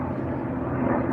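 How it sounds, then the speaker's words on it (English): An aircraft flies overhead in an area with frequent plane and helicopter traffic, a steady, broad, low engine roar that holds for about a second without voices. "A lot of planes, a lot of helicopters here."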